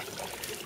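Water trickles steadily out of a 55-gallon tank in an off-grid water system, a soft continuous close-up stream that runs without a break.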